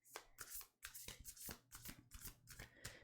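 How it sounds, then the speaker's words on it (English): Tarot cards being shuffled by hand, close up, in a rapid series of crisp riffling snaps and papery slaps at a steady, brisk rhythm. "I shuffled the Jesus out of these cards"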